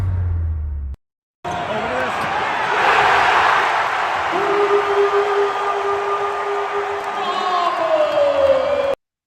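Arena crowd roaring and cheering at a Boise State basketball win over Nevada, a loud sustained wash of noise after a brief dropout, with whistle-like tones and horn notes rising through it.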